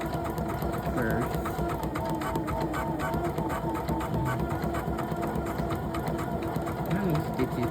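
Embroidery machine stitching an owl design on a Poolin machine, a steady rapid mechanical chatter running continuously and close throughout, with faint voices in the background.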